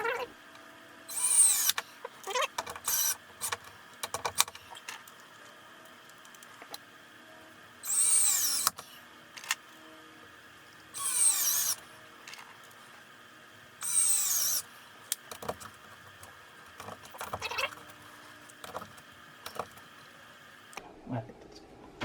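A power drill drives wall anchors in several short bursts of whirring, each lasting about a second, separated by quiet gaps, with light tapping, handling noises and a few spoken remarks in between.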